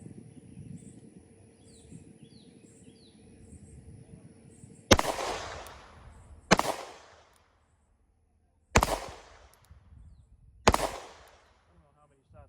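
Four sharp, loud pistol shots from a Sig X-Macro, spaced unevenly a second or two apart with ringing decay after each, following a stretch of quiet outdoor background with faint birds.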